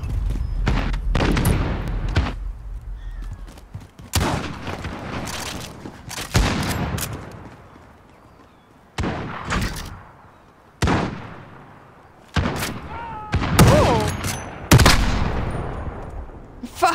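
Gunfire in a first-person shooter video game, including sniper shots: loud, close bursts of shots and booming blasts come in separate clusters with short gaps between them.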